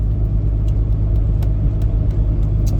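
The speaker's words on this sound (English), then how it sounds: "truck's running pretty good" A truck's engine runs steadily while it drives, giving a continuous close, deep rumble with no pauses and no voices over it.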